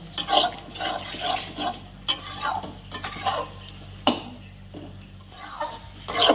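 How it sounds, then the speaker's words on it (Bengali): A dried-fish chutney made with lote shutki and sidol is stirred and reduced in a pan, the spatula scraping in repeated strokes roughly every second over a low, steady sizzle, with occasional clinks of metal and no speech. "একটু নাড়তে নাড়তে কষাতে কষাতে তারপরে যেই নাকি এই যে জলটা বেরিয়েছে এটা শুকিয়ে যাবে"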